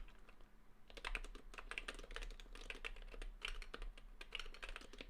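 Fast typing on a metal-cased HHKB keyboard: continuous bursts of close, clacky keystrokes after a brief quiet start, steady rhythm throughout, no voices.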